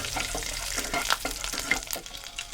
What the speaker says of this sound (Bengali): তেল বেশ ভালো করে গরম হয়ে গেছে, দিয়ে দেবো গোটা রসুন। রসুনটাকে একটু হালকা করে ভেজে নেব।